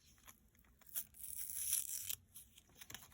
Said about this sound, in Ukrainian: Ось таким скотчем мені дуже подобається, як він відкривається.